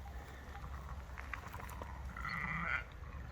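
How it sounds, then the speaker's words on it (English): Sheep and small lambs on a Portuguese farm bleat close by against steady outdoor ambience, with one louder, drawn-out bleat near the end. "Look, there's a whole bunch of little lambs."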